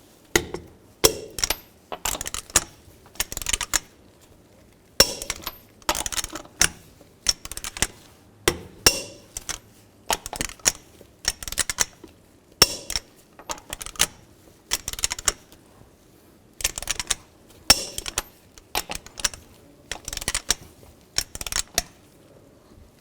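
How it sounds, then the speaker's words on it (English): Lug nuts on a 2000-15 Chevy Tahoe wheel being torqued to 140 foot-pounds in a cross pattern, a series of sharp metallic clicks in quick bursts with short pauses between nuts, close and alone. "Now I'm going to torque these lug nuts to 140 foot-pounds in a cross pattern"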